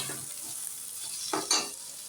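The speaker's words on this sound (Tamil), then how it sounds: "கொஞ்சம் ஸ்டவ்வை மீடியம் ஃப்ளேமில் வச்சு கொஞ்சம் நல்லா பொன்னிறமாக வறுத்து எடுத்துக்கிறோம் வெங்காயத்தை" Onions fry on a medium flame, giving a soft steady sizzle with a couple of brief stirring scrapes near the end, close and fairly quiet.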